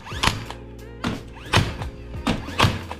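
A Craftsman 18 gauge nailer with a firing pin that fails to retract dry-fires without nails, giving about five sharp mechanical thunks spaced unevenly across a few seconds, close and fairly crisp.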